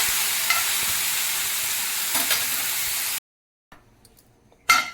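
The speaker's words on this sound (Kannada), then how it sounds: "ಪ್ಯಾನ್ ಬಿಸಿ ಆದಮೇಲೆ ಇದು ಹಾಗಲಕಾಯಿನ ನಾವು ಒಂದು 2-3 ನಿಮಿಷ ಕಾಲ ಚೆನ್ನಾಗಿ ಹುರ್ಕೋಬೇಕು." Bitter gourd dry roasting without oil in a hot pan, a steady dry crackling sizzle with a couple of stirring taps, then abrupt quiet with faint clicks before the sizzle returns briefly.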